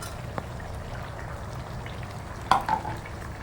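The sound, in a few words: tomatoes and green chillies stirred into frying chicken masala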